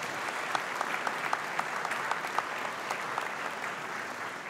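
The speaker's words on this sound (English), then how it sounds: "Yeah, it's worth applauding for." A church congregation applauds during a parish address at Mass, steady mid-level clapping from a full room lasting several seconds, with no talk over it.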